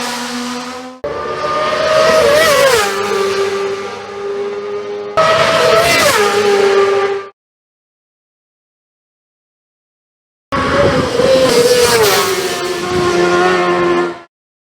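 Honda race motorcycle at the Isle of Man TT, loud high-revving engine screaming past in several bursts with rising and falling pitch, each fading sharply, separated by silence.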